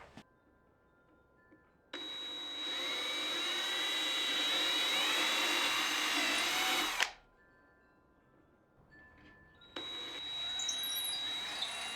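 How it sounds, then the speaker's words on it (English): A power drill boring into wood whines steadily for about five seconds, stops, then starts again near the end; close and loud, with no talking. "let me get the drill set up."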